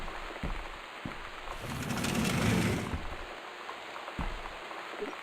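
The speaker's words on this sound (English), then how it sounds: "it's just raining" Steady rain in a home setting, a broad hiss that swells in the middle and then eases, with a few soft low thumps and no clear talk.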